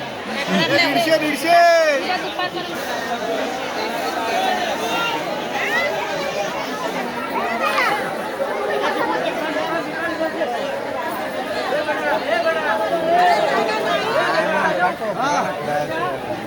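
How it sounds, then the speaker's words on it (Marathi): Dense babble of shoppers crowding Dadar market in Mumbai ahead of Ganesh festival buying, many voices overlapping continuously at close range with a few louder calls cutting through. "पूर्ण अख्खं अख्खं मार्केट पूर्ण खरेदीसाठी लोकांनी गर्दी करून ठेवलेली आहे"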